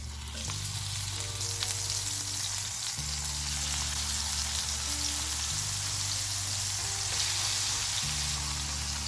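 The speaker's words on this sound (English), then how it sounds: "we're gonna sear it right in here" Turkey burger patty searing in a cast iron pan, giving a steady, loud, close sizzle with a continuous hiss throughout, alongside a low background hum and no talking.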